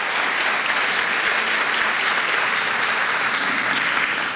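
Audience applause at a novel presentation ceremony, dense and continuous clapping from a sizable crowd at steady loudness throughout, with no speech over it.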